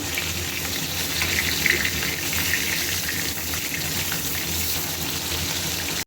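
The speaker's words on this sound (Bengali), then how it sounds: "মাছের দু পিসটা ভালোভাবে ভেজে নেব" Two pieces of fish fry in hot oil, a loud, steady sizzle that crackles continuously and close by without pause or speech.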